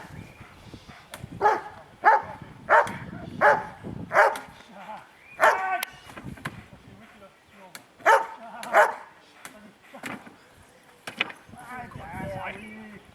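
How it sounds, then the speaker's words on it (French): A dog barks in short bursts of several yaps, repeated in clusters, with people talking in the background between and under the barks. "Ton chien"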